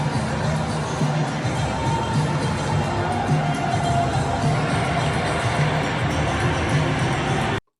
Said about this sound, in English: Brutally booed.